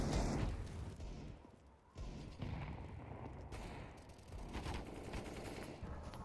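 AK rifle gunfire in a Counter-Strike match, rapid bursts of shots with sharp cracks in repeated volleys, fairly loud against the game's background noise.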